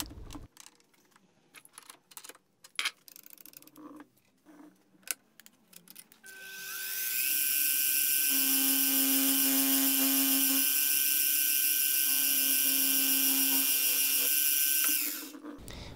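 Drill boring holes for M8 screws in a bicycle frame fixture, a steady high motor whine running for about nine seconds after scattered clicks and handling noises, with a sharper cutting tone partway through.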